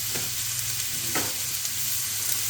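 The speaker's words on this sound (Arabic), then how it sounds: "غادي ندير فيها الزيت وغادي نقلي فيها البصل ديالي" Diced onion frying in oil in a pan gives a steady, close sizzle that holds evenly throughout with only slight crackles, and no one speaks.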